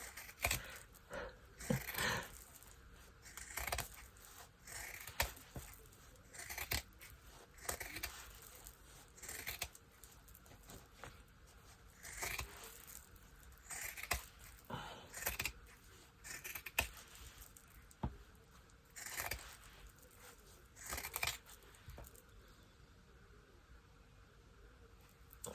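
Scissors cut out quilted fabric circles for chef pads in a series of close, crisp snipping and crunching bursts, repeated in an irregular rhythm, with quiet pauses between them.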